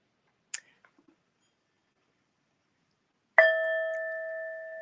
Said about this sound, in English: Let the bell kind of pull you to attention.